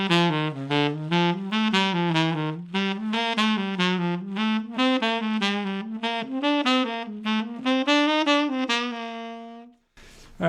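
A wind instrument plays an articulation exercise with chromatic approach notes, a quick run of separately tongued notes rising and falling in pitch, followed by a brief pause and a new attack.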